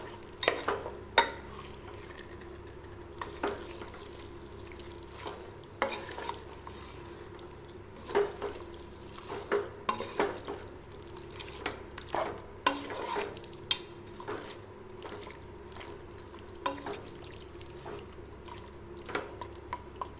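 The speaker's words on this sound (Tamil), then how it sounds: "இந்த மசாலா பேஸ்ட்டெல்லாம் வந்து இந்த மட்டனில் சேர்ந்து நல்லா இது ஒரு 5 நிமிஷத்துக்கு நல்லா வதங்கி வரணும்." Mutton and masala paste are stirred in a pan, with a soft sizzle under repeated scraping strokes of a spoon at an irregular rhythm, close and moderately loud, and no talk.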